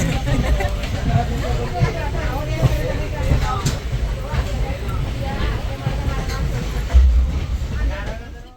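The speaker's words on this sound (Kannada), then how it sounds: "ಕೊನೆಗೂ ಟ್ರೈನ್ ಹೊರಟೆ ಬಿಟ್ಟಿದೆ" A passenger train pulls away at the start of a family trip to Tirupati, its steady rumble and wheel clatter running throughout beneath a constant murmur of chatter from people in the carriage.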